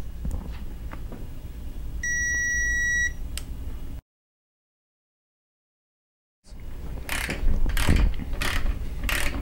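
A ratchet torque wrench tightening a bolt on a Suzuki Samurai transfer case cradle, close clicking with a brief electronic beep, a silent gap, then a run of louder ratchet clicks.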